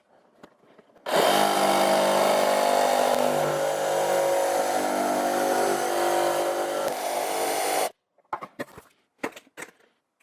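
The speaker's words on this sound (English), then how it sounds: "So I'll use a jigsaw to cut these out." An electric jigsaw cuts wooden discs in one continuous burst of about seven seconds. The whine is loud, close and buzzing, and a few short knocks and handling clatters follow once it stops.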